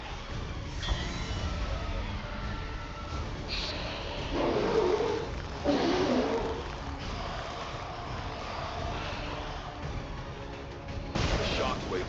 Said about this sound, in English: That explosion reverberated throughout most of the city.